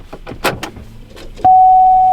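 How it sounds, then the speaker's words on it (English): After a few faint clicks and knocks, a loud steady hum starts abruptly and holds at one pitch as the fuel pump of a Pontiac Grand Prix runs close by when the ignition key is turned. "that humming in the back. That's your fuel pump going off."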